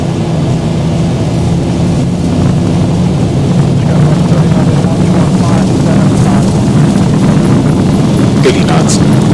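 JetBlue airliner engines spooling at takeoff thrust on the runway at West Palm Beach, a steady loud broadband roar with low rumble that holds throughout, with cockpit voices talking over it.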